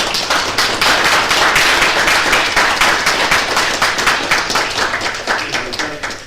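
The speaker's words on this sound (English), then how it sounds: "I'd like to give these guys a round of applause, please" A small group at a city council business meeting claps in a loud, close, fairly even round of applause lasting several seconds, gradually thinning toward the end.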